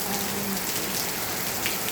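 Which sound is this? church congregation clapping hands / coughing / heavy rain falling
heavy rain falling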